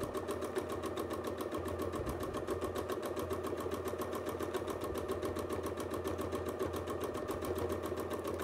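A sewing machine stitches continuously at a fast, even pace during free-motion quilting with rulerwork, its needle hammering in a rapid, close, unbroken rhythm.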